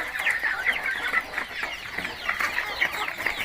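Young chickens about two to three months old clucking steadily in a farm pen, a dense chorus of overlapping calls close by with no talking.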